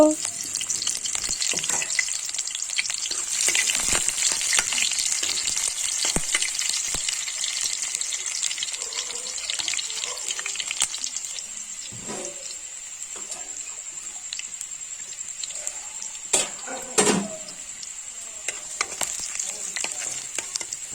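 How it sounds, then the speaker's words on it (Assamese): A few pieces of onion fry in a hot wok, browning with a loud continuous sizzle and crackle, occasional stirring scrapes, quieting slightly partway through. "এইফালে পিঁয়াজখিনি ব্ৰাউন কালাৰ হোৱালৈকে মই ভাজি ল'লোঁ"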